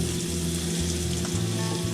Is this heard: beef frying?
yes